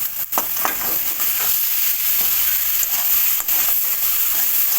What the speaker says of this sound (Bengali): এবার চনা দিয়ে দিচ্ছি, পরিমাণ মতো লবণ দিয়ে দেবো। মশলার সাথে মিশিয়ে নেব।